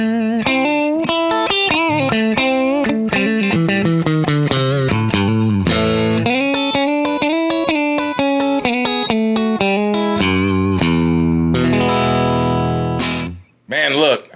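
Peavey Predator Plus electric guitar with a quilted top, played through heavy distortion with chorus, a dense run of fast notes and chords that rings loud and continuous before cutting off abruptly near the end.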